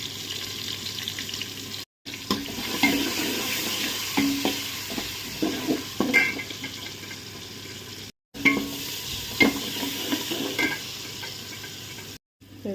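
Ginger and garlic fry in a pan for biryani, a low steady sizzle broken by scraping stir strokes and small clinks, with a few brief gaps in the sound.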